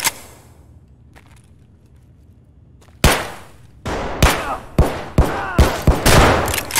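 Gunfire in Escape From Tarkov: after a quiet stretch, a sudden loud shot is followed by a rapid series of sharp, close reports in quick bursts.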